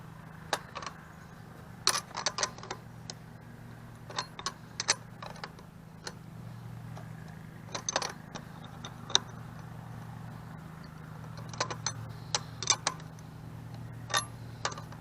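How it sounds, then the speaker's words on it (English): A wrench turns a bolt in short start-stop bursts while training wheels are fitted to a child's bike, giving irregular clicking ticks spaced across a quiet background with a steady low hum. "I have to start and stop the wrench every time I want to turn it"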